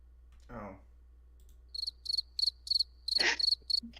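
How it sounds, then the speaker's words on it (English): A cricket chirping sound effect plays as repeated short, bright pulses in a steady rhythm, clear and close, with a brief voice sound before it and another in the middle. "Where are the cricket sounds at it?"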